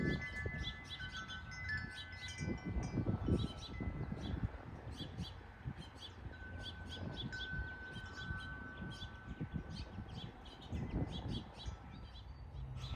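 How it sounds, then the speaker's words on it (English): Birds chirp and sing repeatedly on a farm's side porch over a soft rustle of wind, with faint ringing tones of wind chimes drifting in the background. "One of my favorite things to do out here on this side porch is to watch and listen to the birds"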